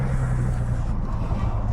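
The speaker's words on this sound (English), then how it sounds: "I love the sound of this car." A rare Japanese-market rental car idles while warming up, a close, steady low engine rumble with a firm hum and no talk.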